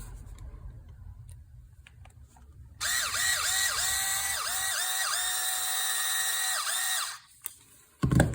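A power drill drives screws into a Traxxas 4-Tec front differential spool, giving a close, high whine for about four seconds that dips in pitch with each short pull of the trigger. Quiet handling noises come before and after.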